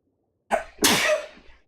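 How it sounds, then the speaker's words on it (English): A single sneeze in the video game Genshin Impact, with a quick breathy intake followed by a sharp, loud burst, close by and alone. "Oh, I'm gonna sneeze."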